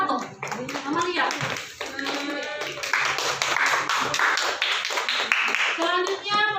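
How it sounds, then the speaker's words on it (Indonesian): A group claps in a classroom after a student group's presentation, a dense patter of hand claps building and continuing steadily, with children's voices talking and calling out over it. "Tepuk tangan untuk kelompok 1."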